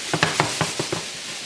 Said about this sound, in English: I'm just gonna keep stirring it and waiting for it to cook until it becomes a little more soft